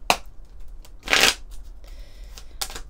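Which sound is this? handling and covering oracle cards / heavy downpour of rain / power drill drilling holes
handling and covering oracle cards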